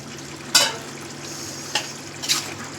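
Shrimp going into a pan of ash gourd and being stirred, soft steady frying under a few sharp scrapes and clinks of the utensil against the pan.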